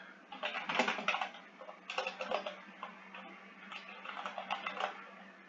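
Steady bursts of rapid mechanical key strikes from a typewriter, quiet and fairly close, coming in two or three flurries with short pauses between and no voices.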